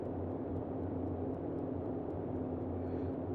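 The engine of a Boeing 247D in Microsoft Flight Simulator gives a steady low propeller drone with a constant tonal hum, even and unchanging, moderately quiet with no voices.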